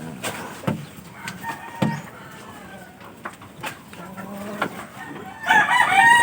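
A Japanese Shamo rooster crowing and clucking at close range in a breeder's yard, with other fowl calls and people talking around it; one bright, loud crow rises at the very end.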